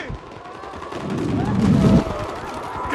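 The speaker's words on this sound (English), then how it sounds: "Fuckers are using grenades!" Gunfire and heavy booms swell amid chaotic combat in Call of Duty: Modern Warfare 3, peaking in a loud rumbling blast, with shouted voices from the game over the action.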